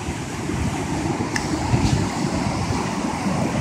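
Ocean waves wash steadily onto a Florida beach in a broad, continuous surf hiss mixed with light wind noise at the microphone; no voices are heard.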